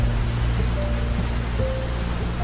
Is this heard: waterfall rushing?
yes